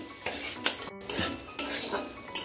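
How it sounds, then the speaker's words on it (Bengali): Peas and vegetables sizzle in a pan over low-to-medium gas while a utensil scrapes and clanks against the metal in irregular stirring strokes. "এখন আমি মটরশুঁটিগুলো দিয়ে দিচ্ছি, দিয়ে মটরশুঁটিগুলো সবজির সঙ্গে ভেজে নিচ্ছি।"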